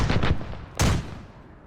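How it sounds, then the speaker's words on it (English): Su-25 airstrike cluster bombs in Arma 3 land near the listener as two loud bursts of overlapping explosions, a rapid rattling cluster first and a second sharp blast that trails off into a fading rumble. "I only saw just a small bit of the cluster bomb land in front of me"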